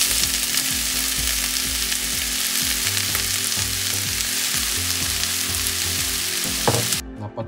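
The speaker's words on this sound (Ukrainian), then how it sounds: "На сковорідці обсмажуємо цибулю. До цибулі додаємо порізані гриби." Onion with sliced fresh button mushrooms and boiled porcini frying in a pan, a loud, dense, continuous sizzle that cuts off abruptly just before the end.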